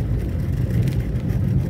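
A car drives along a main street in Laguna, SC with a low, steady engine and road hum heard from inside the cabin, briefly and fairly quiet.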